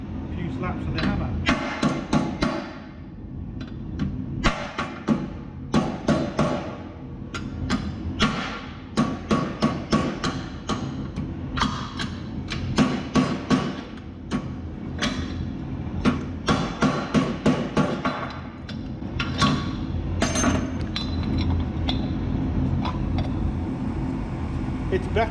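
A hammer strikes a Toyota brake backing plate again and again in irregular clusters of sharp metallic blows, close and loud, with a low rumble of passing traffic underneath.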